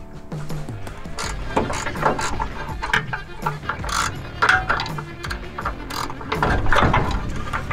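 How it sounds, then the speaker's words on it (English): A ratchet wrench works a bolt loose on a 1969 International 180 truck, its pawl clicking in quick, close bursts and uneven runs with brief pauses between strokes, no talk. "let's get the last bolt out of there."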